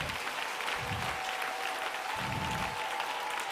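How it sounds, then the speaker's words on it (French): A congregation claps steadily at a mass prayer service, a dense even patter of many hands continuing throughout at moderate level with no speech. "Applaudis très bien le Seigneur."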